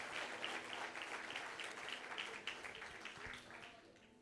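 Church congregation applauding during a worship service, a steady wash of many hands clapping that fills the whole stretch and fades slightly at the end.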